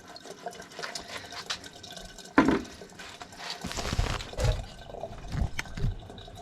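Water and loosened sediment gush and splash from the drain valve at the bottom of a hot water heater tank, a steady close-up wet rush with sloshing surges and a sharp knock partway through.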